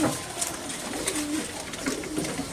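Washi high flyer pigeons coo softly against a busy outdoor background, with a few low murmuring calls scattered through the noise.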